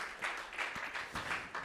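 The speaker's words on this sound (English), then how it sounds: "Give a wonderful hand of applause and praise to Jesus" Church congregation applauding, a steady wash of clapping from many hands, fairly faint and distant with no talk over it.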